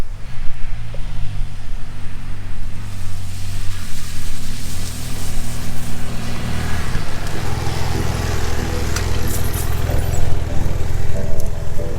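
A BMW F800GSA motorcycle, fitted with a new front sprocket, rides back toward the listener. Its low engine rumble builds and grows louder and closer over the final seconds, with no speech.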